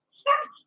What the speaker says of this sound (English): Your dog is trying to figure out where the barking is coming from?